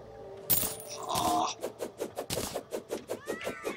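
The Meowmere weapon in the video game Terraria fires repeated cartoon cat meows in a fast, regular string of short chirpy calls, following a few sparkling chimes.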